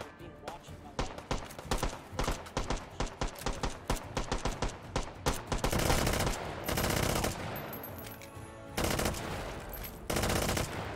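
Gunfire in the VR shooter H3VR: rapid repeated shots crack out in quick uneven bursts, then turn into denser sustained firing, loud and close, with a voice talking over parts of it.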